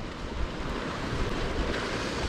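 Strong side wind blowing across a seaside fishing spot, with surf washing in, makes a steady close broadband roar of gusting wind and waves without speech.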